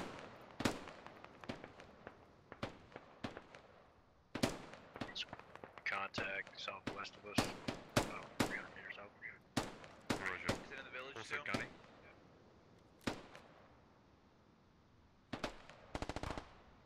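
Gunfire in the military shooter SquadOps during a squad operation, with sharp single shots and short bursts scattered irregularly at varying distances, some close and loud, with radio chatter between them.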